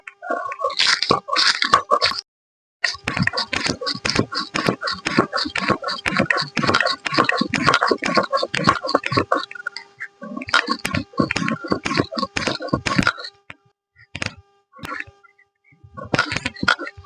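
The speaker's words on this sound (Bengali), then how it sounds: "এটা শিলনোড়াতে গুঁড়ো করে নেব" Spices for a vegetable masala being crushed by hand on a shil-nora grinding stone, a busy run of gritty scraping and crunching strokes in close bursts with brief pauses between.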